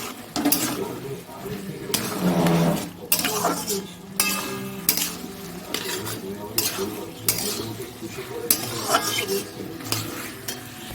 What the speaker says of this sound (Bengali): আদা বাটা রসুন বাটা দিয়ে দিলাম আর দিলাম এখানে একটু লঙ্কার গুঁড়ো দিলাম একটু ভালো করে কষিয়ে নিই